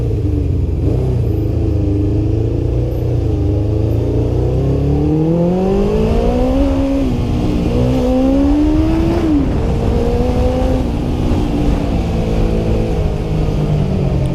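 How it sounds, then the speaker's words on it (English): A steady engine runs continuously, rumbling low and rising in pitch as it revs up, then settling back down, loud and close. "The motorcycle works properly."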